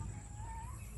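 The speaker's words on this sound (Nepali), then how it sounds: "त्यहाँनिर एउटा कुखुरा राखेको छ त्यो कुखुरा पनि अब ढाल्ने हो भोलितिर" A chicken kept on a small Nepali pig farm clucks softly in a steady run, heard over low background noise without any talk.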